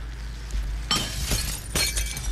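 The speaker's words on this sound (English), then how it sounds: "Breaking all the glass." Glass shattering in the video game Happy Wheels: two loud, close bursts of breaking glass after a quiet start, each with a brief tinkling tail.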